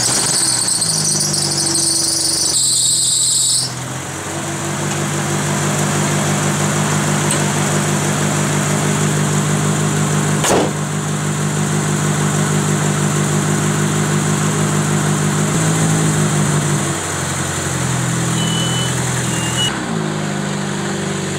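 A Dodge Omni engine runs after a front end rebuild, idling steadily and loud up close with a persistent high squeal on top and a few brief shifts in pitch, with no talking.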